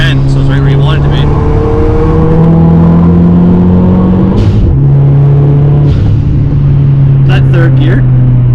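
Engine of a Dodge Caliber SRT-4 pulling while driving, a loud steady drone with pitch that climbs, dips at a gear change and rises again, with faint talk over it.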